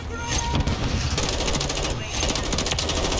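Rapid automatic gunfire from a DTI7 rifle in Call of Duty Modern Warfare III rattles in a loud, continuous burst with a brief break, while someone speaks over the shooting.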